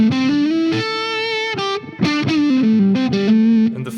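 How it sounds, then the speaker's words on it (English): An electric guitar played through a fuzz pedal gives a fat, saturated distortion tone, sustained bluesy notes and bends with short pauses between phrases, loud and close with no talking. "So you can pretty much play a full set of clean and distortion tones with just one fuzz pedal"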